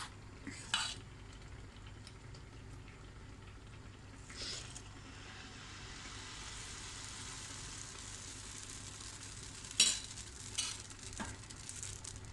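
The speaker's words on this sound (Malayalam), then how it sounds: "ഇനി നമുക്ക് ഇതിലേക്ക് പാർന്ന് കൊടുക്കാം" Fermented rava appam batter is poured into a hot pan, giving a faint, steady sizzle with a few light clinks of a pan and utensil, heard close and quiet.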